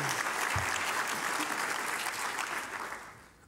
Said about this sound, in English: you deserve a round of applause right at the beginning